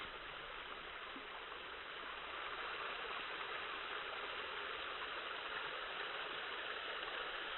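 Steady, full-bodied rush of falling water from a tall waterfall at reduced seasonal flow, continuous and broadband with no pauses, heard from fairly close by.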